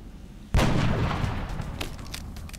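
A single heavy sniper rifle shot booms in XCOM: Enemy Unknown, a sharp loud crack followed by a long rumbling decay.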